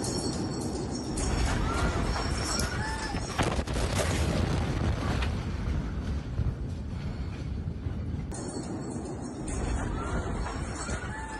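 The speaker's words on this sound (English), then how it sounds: "another video that's just come in showing the moment of that explosion" A large blast in Beirut recorded from a nearby boat: broad, sustained rumbling roar with a sharp surge around the fourth second, loud and close throughout, with agitated voices shouting over it.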